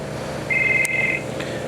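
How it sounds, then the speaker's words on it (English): A telephone ringing indoors, one steady electronic ring tone of about a second, loud and close, with nothing else happening around it. "The phone."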